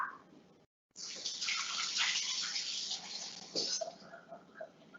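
A kitchen tap runs steadily while hands are rinsed under it. The spray rushes and splashes close by, shifting as the hands move through the flow, after a short silent break at the start.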